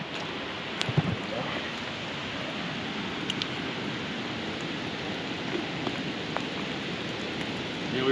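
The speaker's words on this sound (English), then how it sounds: "Because it's raining out here." Rain falls in the Colorado backcountry of Roosevelt National Forest as a steady close patter with scattered drop ticks and light wind buffeting, mostly alone with no talk.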